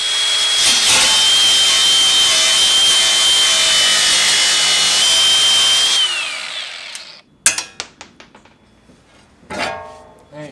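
A power cutting tool grinds steadily through a stripped nut on a coilover steering knuckle, a loud continuous whine lasting several seconds before cutting off, followed by scattered metallic clanks and taps.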